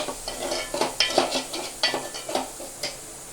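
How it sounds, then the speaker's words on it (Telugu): Dried fish and small dried fish tossed into hot oil for a curry, frying with a soft crackling sizzle and scattered stirring scrapes and light clinks from the pan, close by and fairly quiet. "ఇప్పుడు మనం ఈ ఎండు నెత్తలను కూడా వేసేసుకుందాం. ఈ 1 నిమిషం వేపాక"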